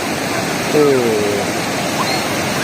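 Surf waves breaking at a beach at Labuhan Jukung, Krui, heard as a steady broadband wash of churning water with a slight swell in the middle, fairly close and continuous.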